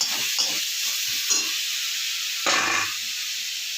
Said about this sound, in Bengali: মশলাটা পুড়ে যাচ্ছে, একটু জল দিয়ে দিলাম